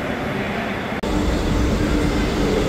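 A Mumbai local train on the Thane line rumbles steadily in a loud, continuous roar with a brief dropout near the one-second mark, heard from inside or close by.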